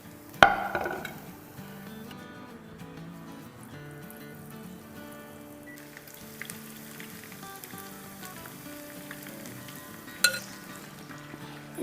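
Onion pakoras made without gram flour frying in hot oil, a steady close sizzle and bubbling throughout with a sharp stir or splash near the start and another around ten seconds.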